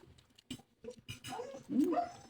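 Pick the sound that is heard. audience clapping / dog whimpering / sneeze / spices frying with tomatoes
dog whimpering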